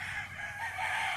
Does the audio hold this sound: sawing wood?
no